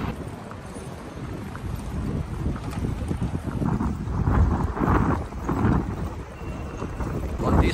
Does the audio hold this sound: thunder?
no